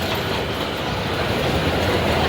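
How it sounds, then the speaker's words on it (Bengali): A train at a station rolling with a steady rumble and rhythmic clickety-clack of wheels over rails, loud and close with no pauses across the short stretch. "যে ট্রেন দাঁড়িয়ে আছে দেখি উঠতে পারি কি না"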